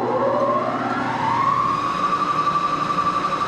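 A Moore jig borer with a boring head cuts a hole just over one inch across at about 1400 RPM, making a loud, continuous tonal whine that slides upward in pitch and then holds steady.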